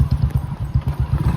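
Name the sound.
horse hooves clip-clopping with rider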